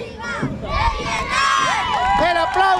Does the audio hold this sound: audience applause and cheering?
yes